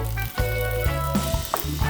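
Egg frying and being stirred in a pan while making instant ramen fried rice, a steady close sizzle with low rumble and faint scraping clicks throughout.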